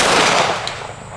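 One loud, close blast from a Smith and Wesson 642 revolver fired at a target 100 yards away, a sharp crack that quickly fades into a short decaying rumble.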